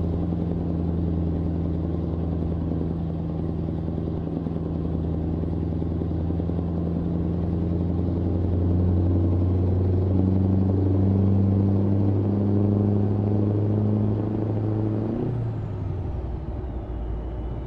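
A Scania 124G truck's engine in Euro Truck Simulator 2 drones steadily, a deep low hum that climbs in pitch with revs and then drops off sharply as the gear slips into neutral near the end.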